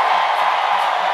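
A loud crowd at a Hawaii women's volleyball match against Pepperdine roars in a dense, steady wall of cheering and whooping that stays constant throughout.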